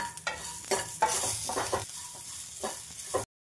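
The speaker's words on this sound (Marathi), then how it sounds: "यातच लसूण, आलं आणि कोथिंबीरीच्या काड्या पण थोड्या फ्राय करून घेऊ" A spatula scrapes and stirs garlic, ginger and coriander stems frying with poppy seeds and cumin in a pan for a spicy vada rassa masala, giving repeated close strokes over a light sizzle before stopping abruptly.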